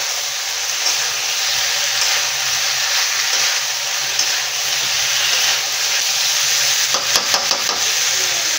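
Spice paste cooked together with fried vegetables in a pan for a rohu fish curry, producing a continuous loud sizzle with soft stirring scrapes and a brief burst of spatula taps near the end.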